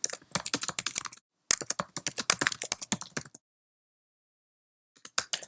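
Rapid, close typing on a computer keyboard while writing HTML with inline CSS: two long runs of dense keystrokes, a long silence, then a few final taps.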